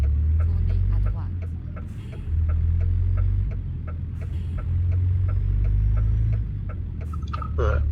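Inside the cab of a fairly recent truck on the move, a low engine hum that swells and eases, with a regular ticking indicator throughout and a brief voice at the end.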